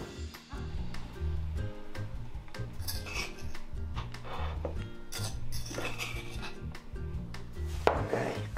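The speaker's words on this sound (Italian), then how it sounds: "She pounds everything to a thick, sticky paste" Pine nuts and marjoram are pounded into a paste with a mortar and pestle, making rhythmic dull thuds and grinding scrapes that repeat steadily, close up, with faint voices now and then.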